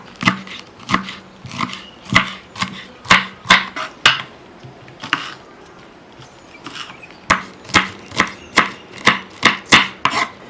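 Twenty green chillies chopped with a knife on a board for homemade cabbage pakoda, a steady run of sharp, close knocks in quick bursts with a short pause midway.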